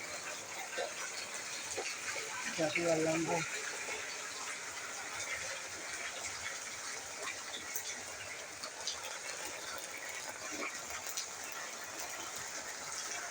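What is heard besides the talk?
rain falling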